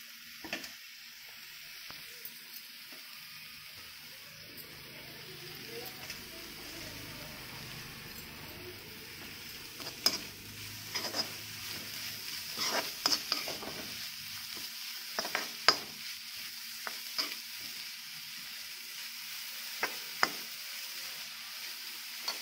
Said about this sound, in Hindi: थोड़ा सा इसे हम लोग ऐसे हल्का हल्का चलाते रहेंगे।